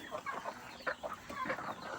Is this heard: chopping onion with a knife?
no